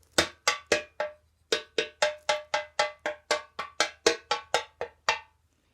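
A homemade steel pan struck with a wooden beater rings out in a quick run of about nineteen bright, metallic strikes, each with a short decaying tone, played close and alone with a brief pause after the first few hits.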